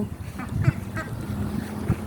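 Ducks raised beside a canal quack in a series of short, rough calls, fairly close, over a low murmur of background noise.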